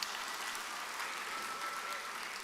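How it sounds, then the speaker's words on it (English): Faint, steady audience applause at a 2nd Mile Palm Beach graduation ceremony, a continuous patter of many clapping hands heard from a distance. "Just a little round of applause for them."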